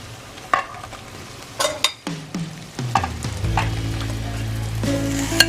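Six or seven boiled, cut potatoes are stirred into fried spices in a pan, with a few loud scraping clatters of the spoon that then settle into a steady close sizzle.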